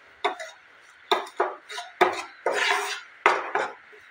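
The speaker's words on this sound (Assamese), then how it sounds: "এইদৰে লৰাই থাকিব লাগিব।" Gram flour roasting in a pan over a low flame for barfi, stirred with a utensil: a run of distinct scraping, clinking strokes against the pan, close and fairly loud, with no talking.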